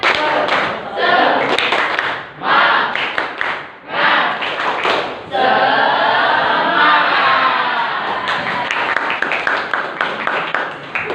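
A sociology class of Indonesian students performs the tepuk semangat clapping chant, with sharp patterned group claps in quick sets, a stretch of voices chanting together, and then more rhythmic clapping close by.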